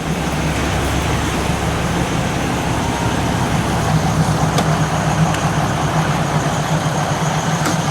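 A train engine idles at the Mae Klong railway market in Thailand with a steady low rumble under constant broadband noise, unchanging throughout, with no voices.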